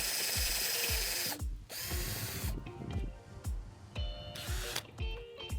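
A power drill driving a screw into the wooden joint of a DIY raised bucket stand, several short whirring bursts with ratcheting clicks and pauses between them, close and loud.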